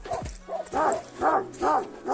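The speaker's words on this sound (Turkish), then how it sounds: "Bir tane köpek var." A shepherd dog guarding flocks in a mountain village barks three times in a steady rhythm, each bark close and fairly loud, with a brief lower yelp near the start.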